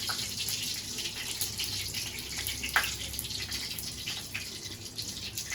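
Water running from a tap in a village kitchen while a carrot and taki fish bhorta is prepared, a steady close splash and trickle with faint drips and no talking.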